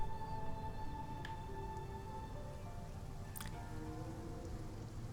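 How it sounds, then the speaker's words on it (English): Steady rain falls in a stormy Genshin Impact scene near Inazuma, a soft continuous hiss with scattered drips and a few brief sharper taps, with no voices. "Once again, it started raining."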